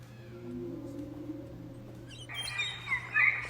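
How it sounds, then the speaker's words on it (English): A whale recording sped up until it resembles birds, with high chirping, tweeting calls that grow louder and denser toward the end over a low steady hum, heard alone with no speech. "If I take a whale and we speed the whale up,"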